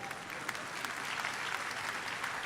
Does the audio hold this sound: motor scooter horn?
no